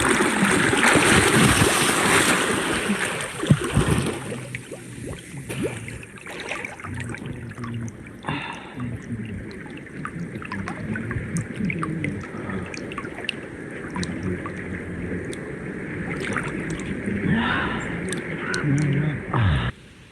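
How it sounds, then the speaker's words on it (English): A sediment-laden river runs past an ancient Pueblo cliff dwelling in a Bears Ears canyon. Broad, steady rushing water fills the background, with a person talking over it for much of the time. "The river flows by this cliff dwelling."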